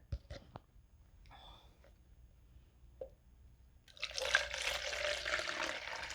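Rice water poured from a pot into a container: a few faint clinks and taps at first, then a steady, close, hissing pour of liquid through the final couple of seconds.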